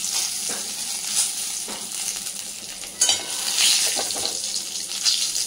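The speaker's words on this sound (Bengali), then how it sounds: "এবার এই তেলেই দিলাম তেজপাতা, এলাচ আর শুকনো লঙ্কা" Bay leaves, cardamom and dried chillies crackling in hot oil left from frying fish, a bright close sizzle with intermittent spoon scrapes and small pops.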